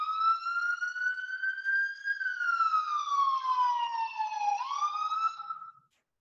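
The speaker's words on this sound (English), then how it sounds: "there's a siren going by" An emergency vehicle siren passes by, a loud wailing tone that rises, then falls slowly before jumping back up and fading out near the end, with no other sound around it.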